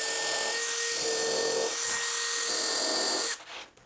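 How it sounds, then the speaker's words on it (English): A power drill fitted with a pilot countersink bit bores through holes in a wooden fixture, making a steady close motor whine with a slight shift in load midway, then stopping abruptly. "use this snappy pilot countersink bit to chase through those holes and countersink"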